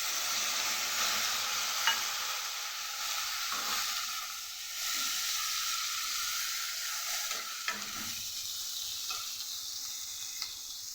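Ginger and cumin paste frying with potatoes in an oiled pan: continuous close sizzling with intermittent spatula scrapes and taps, the hiss shifting and softening partway through as the mixture is stirred.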